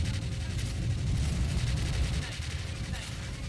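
Cannon fire during a boss fight in the arcade shooter House of the Dead: Scarlet Dawn, heard as dense, rumbling blasts and booming gunfire that swell and fade over a few seconds amid game noise.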